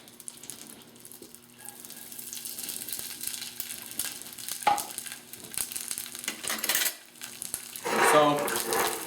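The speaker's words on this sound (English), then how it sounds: "So what I'm doing here is a quick saute. This is called sauteing. Low to moderate heat, fat, this being the butter and the oil." Butter and oil sizzle in a pan during a quick sauté over low to moderate heat, a steady close hiss broken by utensil clinks and scrapes, with a louder, fuller burst near the end.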